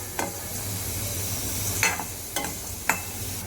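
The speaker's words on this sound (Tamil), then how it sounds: "ஒரு கேஸை சிம்மில் வச்சுட்டு நல்லா இதை இப்படி வதக்கிக்கணும்" Cumin, garlic and pepper sautéing in a dry pan over a low gas flame for a South Indian home meal, a faint, even sizzle with a few isolated spatula clicks and scrapes.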